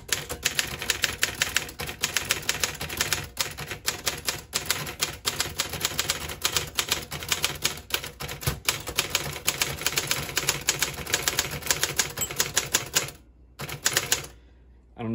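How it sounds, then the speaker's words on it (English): Rapid, crisp clacking of keys on a 1958 Royal FP manual typewriter, a steady stream of close strikes, with a brief pause near the end before typing resumes. "Let's just do a little bit of typing."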